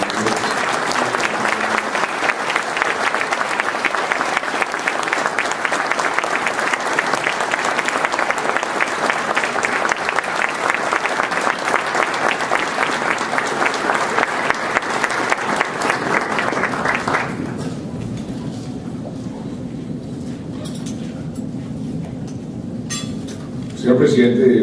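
A large audience at a formal address applauds the president of Colombia with dense, sustained clapping that holds for about seventeen seconds before cutting to quieter room tone, where a voice and a brief noise follow near the end.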